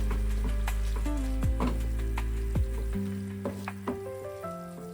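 Clams (kalve) stirred and fried in a pan: a spoon scraping and tapping the pan in uneven strokes over a light sizzle, close by, with a steady low hum that cuts off midway, and no talking.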